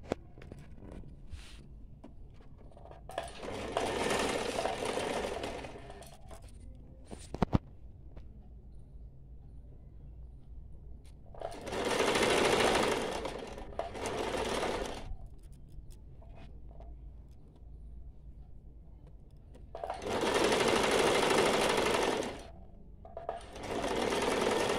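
An electric sewing machine stitches both sides of a small fabric face mask in three separate bursts of loud, steady whirring, with quiet fabric handling and a sharp click in the pauses.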